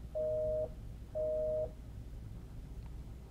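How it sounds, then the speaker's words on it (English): A busy signal on a Cisco phone call sounds as two identical steady tone bursts, each about half a second long and separated by a short gap, quiet over faint line hiss. "Since routine is a lower precedence than priority, we get a busy signal."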